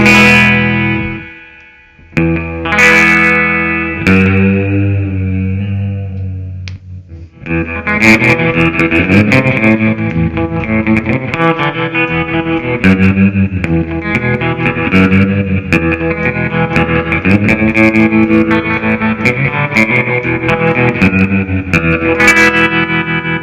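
A MiYavi Telecaster electric guitar played through effects, loud sustained chords and notes with distortion, chorus and reverb, a short pause after the opening chords, then steady driven strumming.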